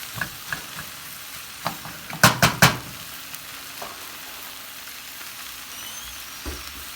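Cabbage fries in a pan over high heat with a steady sizzle, broken by a few quick stirring scrapes and clacks, including a cluster of three sharper strikes near the middle, with no talking.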